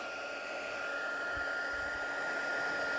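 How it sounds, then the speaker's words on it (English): A heat gun blows steadily and close by while drying watercolored paper poinsettia petals, a continuous even whoosh with no talk. "And then I'm going to hit it briefly with my heat gun."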